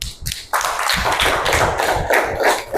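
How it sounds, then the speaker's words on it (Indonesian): Students in an Indonesian Islamic studies classroom clap their hands together, a close, loud burst of rhythmic group clapping after a brief pause at the start. "Tepuk tangan dulu."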